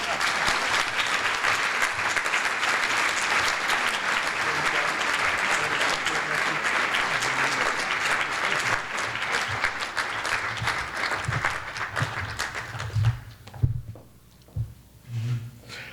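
Sustained audience applause for honorees at a trustees' annual meeting, dense and steady for most of the stretch before thinning into scattered claps and a few voices near the end.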